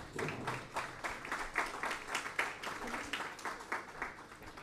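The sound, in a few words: audience applause for the panel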